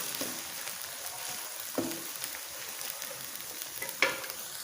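Chopped onions fry in hot ghee for a dahi bhindi masala, giving a steady close hiss with a few louder scraping stirs.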